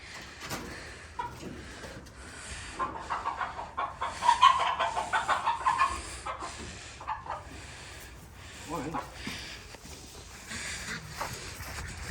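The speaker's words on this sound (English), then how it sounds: "trying to chase those chickens and get them put in the chicken coop" Chickens cluck and call on a hobby farm homestead, a steady flock chorus with a louder burst in the middle and scattered squawks, close by with no talking.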